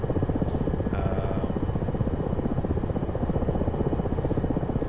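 Black Shark helicopter engines run in a flight-simulator video game, with a loud, continuous rotor thump and turbine drone that holds steady and close throughout.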